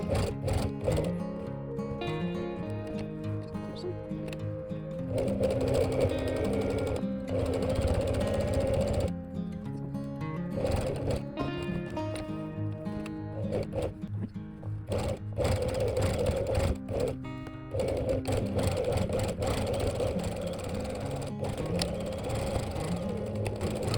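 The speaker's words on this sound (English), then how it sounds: "top stitch the individual pocket divisions from bottom to top" A sewing machine top-stitches pocket divisions on the fabric lining of a zipped case for knitting needles, running in steady stitching bursts with brief pauses between lines.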